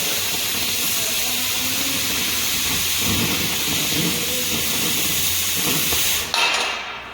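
An acetylene torch freehand cutting metal, a steady rushing hiss with faint crackle that runs for several seconds before cutting off abruptly.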